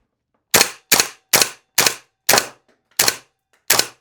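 A WELL PRO KS-1 airsoft gun fires seven sharp, loud single shots at close range, spaced roughly half a second apart, with silence between them.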